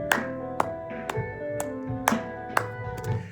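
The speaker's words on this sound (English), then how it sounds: "consistently clapping along" Hand claps keeping time with the snare of a rap beat, sharp regular hits about every half second over the steady music.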